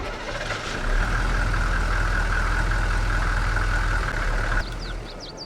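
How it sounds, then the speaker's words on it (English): A TLX 3500 vehicle engine in Farming Simulator 22 idles and runs steadily with a low, constant hum that cuts off near the end, followed by faint higher-pitched chirps. "there's the engine sounds on that one"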